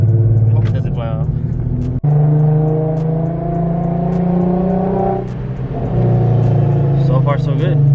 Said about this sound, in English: Let's go on a little drive, see if it flies off.